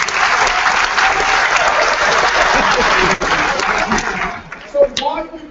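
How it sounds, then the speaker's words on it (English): An audience at a leadership retreat claps for Yusuf, a loud, full burst of applause that carries for about three seconds, then thins to scattered claps and a few voices and chuckles. "Everybody give Yusuf an applause."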